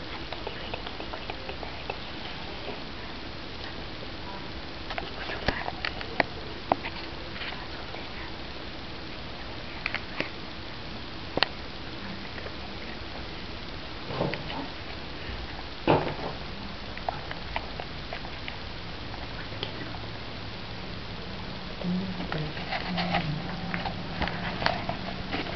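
Hydrogen peroxide and potassium permanganate foam up in an elephant toothpaste reaction, giving a faint, continuous fizzing and bubbling crackle with occasional sharper pops throughout.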